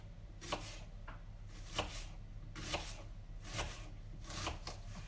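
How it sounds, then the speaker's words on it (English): A knife chopping an onion on a board in a home kitchen, about seven soft scraping thuds at uneven intervals, close and fairly quiet over a low background hum. "You gotta chop an onion."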